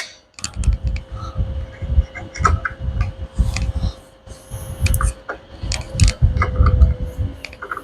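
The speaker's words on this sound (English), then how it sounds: "Tighten the piston up. Get our spanner wrench." A spanner wrench tightens a piston on a Massey Ferguson steering cylinder, heard as close, irregular metallic clicks and taps scattered through the whole stretch.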